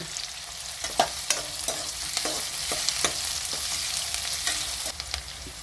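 Onions and curry leaves fry steadily in a hot pan for North Karnataka-style tomato rice, a continuous close sizzle with sharp spatula scrapes and clicks against the metal at irregular intervals, no voices.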